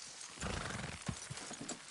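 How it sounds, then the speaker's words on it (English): Horses in Red Dead Redemption 2 clop their hooves and snort while pulling something down, heard as a busy, moderately loud jumble of hoofbeats and breathy animal sounds. "Horses will pull it clean down."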